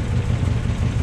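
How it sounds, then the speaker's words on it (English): The 270 cubic inch Poly V8 of a restored 1956 Dodge C Series pickup idles with a loud, steady low rumble, close by and without voices. "You can listen to the engine."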